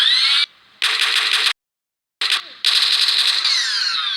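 Loud, rapid bursts of automatic gunfire from a modded gun in BlockLauncher Pro, fired in a few long strings separated by brief pauses.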